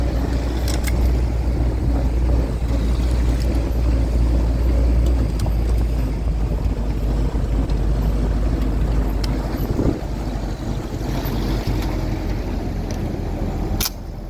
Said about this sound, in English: we all loaded up in the Jeeps and headed to where the battle would happen